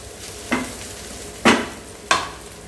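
Vegetables sautéing in oil in a pan for idli masala, with a soft steady sizzle and three distinct stirring scrapes spaced about a second apart, close up.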